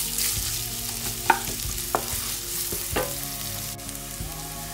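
Vegetables sizzle and fry with onion in a pan for cheesy pasta, a steady broadband hiss punctuated by a few sharp clinks and stirring knocks of a utensil against the pan, close and moderately loud, with no talking.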